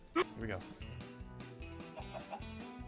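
Chickens clucking amid a busy mix of short clucks and squawks, with a voice calling out and a background tune playing underneath.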